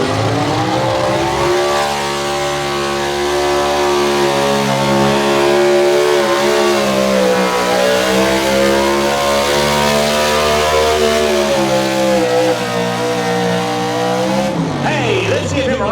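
A Ford pulling truck at a county fair tractor pull roars with a loud, sustained revving engine note that rises and falls for the whole stretch, with a voice talking underneath.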